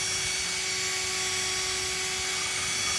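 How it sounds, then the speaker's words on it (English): Continuous high-pitched whir of a spinning drill grinding a turquoise stone against sandpaper into a cabochon, with a steady hum and gritty abrasive grinding, loud and close throughout. "turn the drill on and run it against your paper like this"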